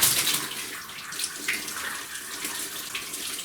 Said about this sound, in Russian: И отпускаем, чтобы давление, чик, вода быстро выбегала.